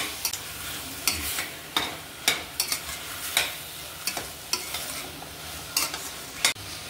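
Red chili, turmeric and coriander powders cooking in a pan, with a steady low sizzle broken by repeated sharp stirring scrapes, close and moderately loud, no voices.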